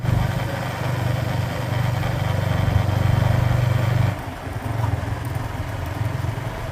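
A Yamaha XSR155 motorcycle engine runs steadily during a test after a vibration fix, a close, loud humming drone that dips briefly midway and then resumes slightly quieter.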